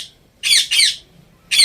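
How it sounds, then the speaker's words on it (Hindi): An angry pet parrot in a village home lets out three loud, harsh squawks, two close together and then one more after a short pause, close to the listener. "तोते को पता नहीं क्यों गुस्सा आया हुआ है"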